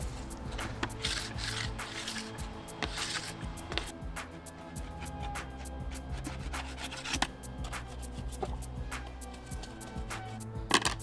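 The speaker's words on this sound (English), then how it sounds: "we're gonna scrape all the wax off the base" Wax scraped off a snowboard base, a quiet continuous rasping and rubbing with small scratchy clicks, close up and fairly faint.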